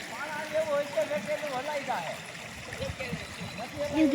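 Flowing stream water runs and trickles in the background at a farm in the evening while people talk over it.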